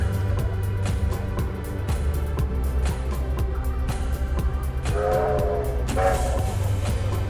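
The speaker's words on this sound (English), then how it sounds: "here comes the train" A vintage steam-era train at Glenbrook Vintage Railway in New Zealand, decked out in Christmas lights, rolls in with a steady loud rumble and rhythmic clatter, a horn or whistle sounding toward the end over crowd murmur.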